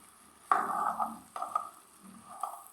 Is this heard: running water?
no